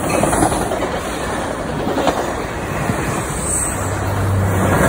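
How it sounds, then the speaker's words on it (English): Passing train near a station in Santa Clara, San Jose, with Caltrain and Amtrak service: a steady, loud rumble with faint wheel clatter holds for the whole stretch, with no talk over it. "Yeah, there's another train coming."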